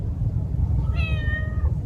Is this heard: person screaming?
no